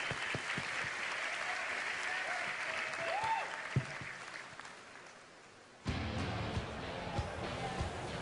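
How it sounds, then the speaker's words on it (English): A convention panel audience at BlizzCon 2011 applauds steadily, the clapping dips briefly and then surges back strongly, with a few louder individual claps standing out. "Everybody give them a round of applause."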